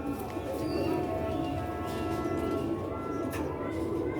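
Sialkoti rooftop-loft pigeons coo in a dense overlapping murmur, with someone talking over the steady birdsound throughout.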